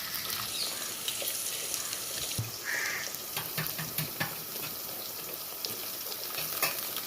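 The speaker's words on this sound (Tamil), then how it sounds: "வெங்காயம் நல்லா வதங்க விட்டு தக்காளி சேர்த்துக்கலாம்." Onions sauté in a pan for fish curry, giving a steady moderate sizzle and frying hiss with light stirring scrapes and small clinks throughout, with no talking.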